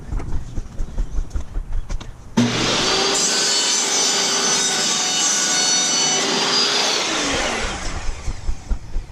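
A plastic interlocking garage floor tile is trimmed, giving a loud, steady grinding rasp that starts abruptly after a couple of seconds of quieter rustling, runs for about six seconds, then cuts off.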